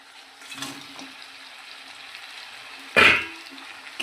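Crab dropped into hot spiced oil gives a sharp, loud sizzling burst near the end, following a steady low frying hiss with a couple of softer stirring scrapes earlier.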